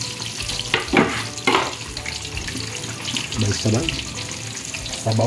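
Ginger, garlic and tomato sauté together in a pan, a steady sizzle broken by several scraping stirs and clatters of the utensil against the pan.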